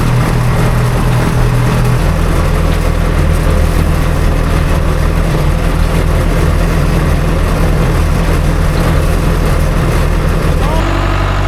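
Tractor-pulled hay baler running in a hay field, a steady loud engine drone with low mechanical rumble throughout, the pitch shifting slightly near the end.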